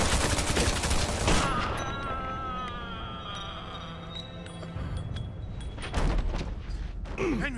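Gunfire in the video game Mafia 2: a loud burst of rapid shots, a quieter stretch with ringing tones, then more sharp shots near the end, with voices heard faintly.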